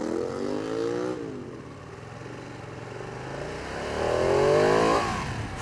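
Red Ducati Panigale 959 twin-cylinder sport motorcycle pulling away under way, engine note rising in a steady climb, easing off through the middle, then building again to a strong pitched-up surge near the end, with constant close wind and mechanical rumble.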